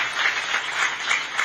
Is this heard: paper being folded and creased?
no